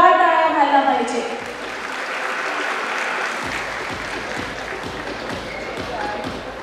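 An audience claps for the runners at an awards event, a dense roll of applause that starts loud over a brief announcer's voice and then carries on steady and full.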